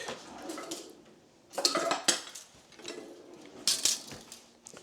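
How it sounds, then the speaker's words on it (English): Six egg yolks being whisked in a bowl for a homemade key lime pie, a rapid clattering of the whisk against the dish that swells into louder bursts twice before settling, close and with no voices. "we have our 6 egg yolks, and we're gonna whisk"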